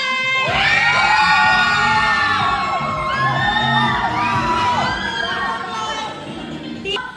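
A crowd of children cheers, whoops and shouts together loudly and continuously, voices rising and falling in excited overlapping yells.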